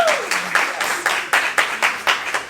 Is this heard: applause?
yes